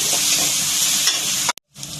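Food fries in a pan at home during a Diwali lunch, a loud continuous close sizzle that cuts out briefly near the end before resuming.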